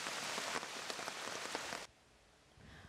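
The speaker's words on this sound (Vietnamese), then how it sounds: "Hiện tại tỉnh Hòa Bình vẫn có mưa" Steady rain falls heavily and close by in Hoa Binh province, Vietnam, a dense wash of drops on surfaces that drops suddenly to a quieter patter near the end. No one speaks.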